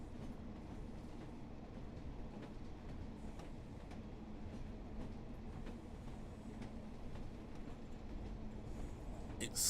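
A train runs steadily in a train video game, a continuous low rumble with faint clickety-clack at constant level, alone with no talk and a brief louder burst at the very end.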